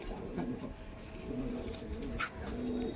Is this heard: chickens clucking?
no